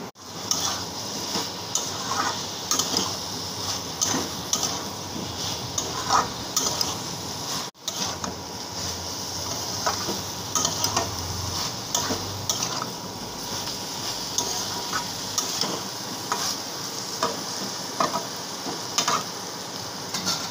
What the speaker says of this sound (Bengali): দেখো মশলাটা এবার দিয়ে দেবো ভেজে রাখা আলু আর পটল।